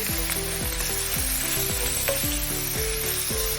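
Bacon chunks frying until crispy in a pan, a bright steady sizzle and spatter overlaid with repeated rhythmic scrapes and stirs, close and continuous with no one speaking.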